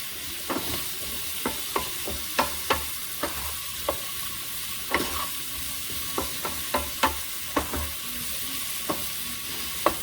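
Okra and potatoes fry with curry leaves in a pan, giving a steady background sizzle broken by sharp, irregular clicks and scrapes of stirring, with no voices.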